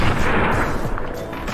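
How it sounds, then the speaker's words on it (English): Shotgun gunfire in a video game rings out as one loud sustained blast with a booming tail, alone without talk. "Disarm your opponents by shooting their weapons out of their hands."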